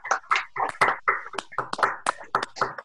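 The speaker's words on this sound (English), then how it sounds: "Unmute yourselves, please, and let's give a big round of applause to Shirley, please, for her excellent contri" A few people at an online union delegate meeting clapping unevenly close to the microphone, the claps mixed with brief voices.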